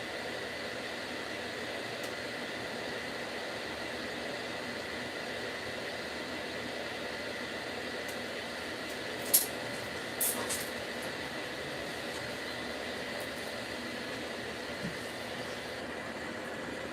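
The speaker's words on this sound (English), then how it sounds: "The reason I had the white noise machine on" A white noise machine runs in a room, a steady, even broadband hiss that continues unchanged for the whole stretch, with a couple of faint clicks partway through.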